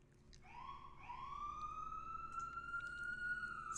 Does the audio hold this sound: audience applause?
no